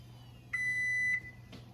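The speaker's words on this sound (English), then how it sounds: "Oh, see, there was the 2-minute timer." A kitchen timer set for two minutes gives one steady, clear electronic beep lasting about half a second over a low background hum, followed by a faint short click.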